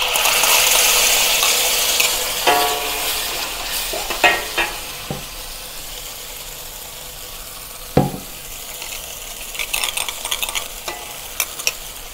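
Sauce poured into a wok of stir-fried eggplant, tofu and dry chili: a loud sizzle that fades to a softer bubbling hiss, with sharp clanks of the spatula against the pan and scattered scraping strokes.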